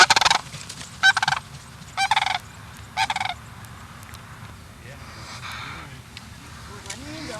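A sandhill crane gives four loud, rattling, trumpeting calls in quick succession, followed by quieter rustling with a low background hum.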